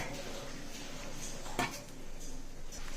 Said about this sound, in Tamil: நம்ம இத மிக்ஸி ஜார்ல ஆட் பண்ணிக்கலாம்